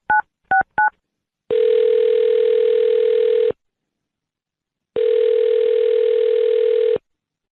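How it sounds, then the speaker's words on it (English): Three short touch-tone dialing beeps for a phone number, followed by two long steady dial-type tones separated by silence, loud and clean with no voices. "I'm going to dial her phone number right now"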